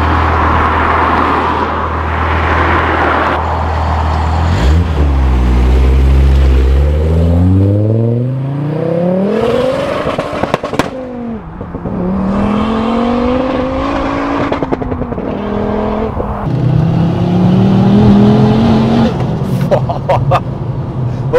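A 600bhp Ford Focus RS accelerates hard from close range, engine note climbing and dropping through successive gear changes with a deep rumble at pull-away, while people talk over parts of it.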